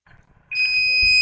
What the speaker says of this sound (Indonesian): perhatikan sistemnya nanti akan berbunyi alarmnya